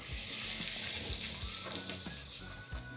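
Finely chopped garlic fries in hot oil in a pan, giving a steady soft sizzle with occasional light clicks of stirring, fairly quiet and with no talk.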